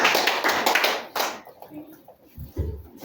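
A church congregation at an evangelistic service claps together in a dense, loud burst that fades after about a second, followed by a preacher talking and a few scattered claps.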